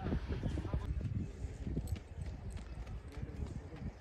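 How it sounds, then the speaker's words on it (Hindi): Hooves of a mare clip-clopping as children are given a ride, a rapid irregular series of close thuds on the ground, with voices talking over them. "इनको घोड़ियों की सवारी करवा रहे हैं काजल के"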